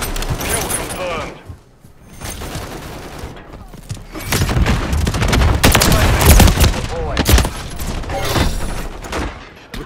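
Rapid gunfire and bursts of automatic weapons crackle through a Call of Duty MW3 multiplayer match on the Rust map, loud and dense, with clipped in-game voice callouts mixed in.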